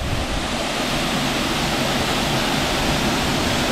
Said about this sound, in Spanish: esta es la espectacular, la impresionante, la apoteótica cascada de Arcaza